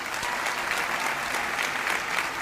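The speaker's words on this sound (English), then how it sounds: "Let's offer a round of applause." Steady, even applause from a high school graduation audience, a continuous dense crowd clapping without any voices standing out.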